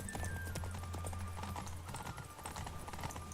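Roach, the horse in The Witcher 3, gallops at a steady rhythm of quick hoofbeats beneath a low game drone, faint and without speech.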